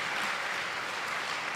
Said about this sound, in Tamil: நாம கூட கைத்தட்டி ரசிக்கலாம்.